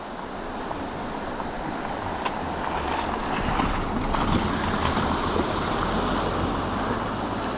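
Deep river in full flow across a ford in the Manifold Valley near Milldale, a steady broadband rushing of water heard up close, mixed with gusty wind buffeting the microphone and no talk.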